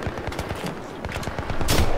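Rapid gunfire in the multiplayer shooter Battlefield 3, loud, close bursts of automatic fire crackling continuously for about two seconds and swelling louder toward the end.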